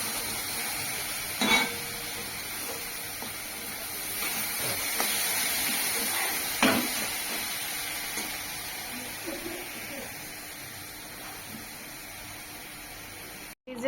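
Ghugni cooks in a pan for a Ganpati puja, a soft steady sizzle with occasional scraping stirs and clinks, under intermittent talk nearby.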